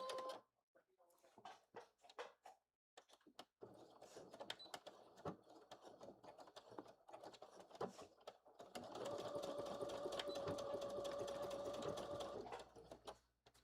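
A sewing machine stitching webbing for a fanny pack, first in short stop-start bursts of clicking, then a sustained fast whirring run near the end, with occasional talk between stitches.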